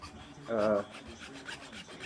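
A hand file rasps once across a wooden Canadian-style tobacco pipe, a short, close scraping stroke against a quiet background.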